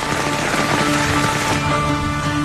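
Steady rain falls in the Rhodope Mountains of Bulgaria during a thunderstorm spell, a dense, even hiss of drops close by, continuous and fairly loud with no talking.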